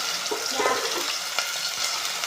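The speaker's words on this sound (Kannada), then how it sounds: "ಬಟಾಟು ಫ್ರೈ ಆಗತ್ತಾವ್ರಿ" Potatoes fry in a pan for vegetable biryani, a soft, low sizzle with a few faint scraping stirs over its short length.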